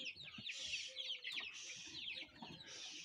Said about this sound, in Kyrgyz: Адлерский деген тооктун чөжлөрү